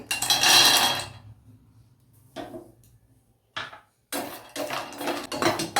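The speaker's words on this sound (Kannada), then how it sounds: "ಇವಾಗ ನೋಡಿ ಗೋಡಂಬಿನ ಆ್ಯಡ್ ಮಾಡ್ತಾ ಇದ್ದೀನಿ" Cashews tipped into a pan for dry roasting while making dry fruits powder: a bright burst of rattling nuts on metal, then scattered clinks and scrapes, and a busier stretch of stirring clatter near the end.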